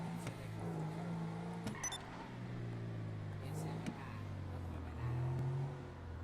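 A video-game car engine drones and shifts pitch as the vehicle drives and pulls out, steady and moderately loud, with a few brief clicks layered on top.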